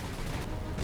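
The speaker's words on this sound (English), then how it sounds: "Look at those explosions." Explosions and gunfire in the naval video game War on the Sea, a dense, continuous rumble of distant blasts and shots, fairly faint and unbroken.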